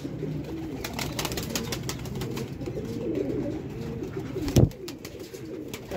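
Pigeons coo in steady, overlapping low calls throughout, near and moderately loud, with one brief louder burst toward the end; no talk is heard.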